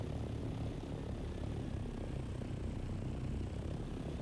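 Engines of a crashed ship hovering in the desert in the Dune video game give off a steady, dense, low mechanical roar with aircraft-like propeller drone. The roar holds constant and loud throughout, with no voices.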